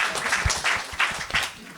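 Brief burst of audience applause in a room after a panel discussion, a dense patter of clapping that swells and fades over under two seconds.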